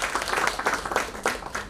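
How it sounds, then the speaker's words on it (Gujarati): Brief, moderately loud burst of audience clapping at an award ceremony for Dr. Parulben Vadgama, with quick irregular claps carrying on steadily through the short stretch. "પારુલબેનને જોરદાર તાળીઓથી વધાવીએ."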